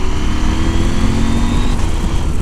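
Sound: Husqvarna Norden 901 motorcycle downshifting two gears and accelerating

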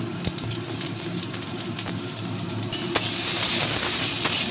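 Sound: frying Panch Phoron spices and chili in oil for potato curry

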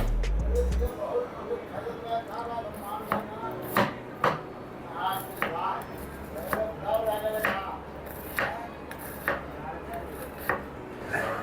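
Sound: chopping onion with a knife

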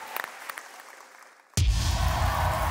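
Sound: audience applause at The Voice Afrique Francophone battle

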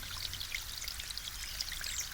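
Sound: mountain spring water trickling in drops, Chorna Tysa source

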